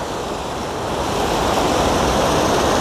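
A waterfall near Uthamapalayam in a deserted picnic area keeps up a loud, continuous rushing roar of falling water, close by and steady, with no voices over it.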